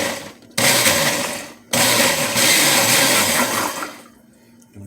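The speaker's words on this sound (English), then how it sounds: "Take the lid off of this blender so I can just drop things right in there. And give it a nice little pulse." A kitchen blender pulses in two bursts while mixing ingredients for catfish fish tacos, each burst a loud whirring roar that starts abruptly, then the motor winds down into quiet.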